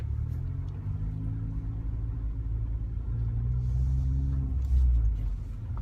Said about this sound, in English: vehicle's running right there, and I can go ahead and get it, put it in gear,